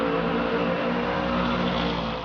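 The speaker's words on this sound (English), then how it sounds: "enjoy the sights, the smells, the sounds of these muscle cars" Muscle cars at a drag strip, a loud engine roaring and revving continuously with a throaty rumble and harmonic drone, close and dominant, easing slightly at the end.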